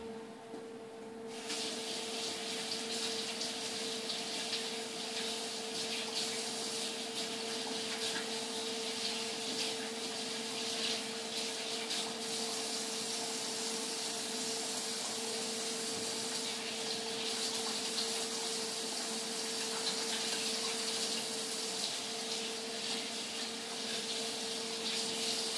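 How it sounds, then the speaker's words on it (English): Hands washed under a running kitchen tap while baking chocolate chip blondies, a steady, close rush and hiss of water that flows without a break for the whole stretch. "I'm just going to wash my hands"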